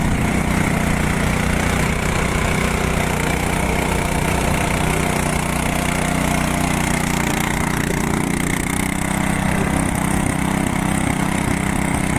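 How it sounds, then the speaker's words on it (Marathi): A tractor engine drones at a rice paddy field during transplanting, a loud, steady low rumble with constant vibration and no pauses, close by throughout. "तो ट्रॅक्टर जातो बघा"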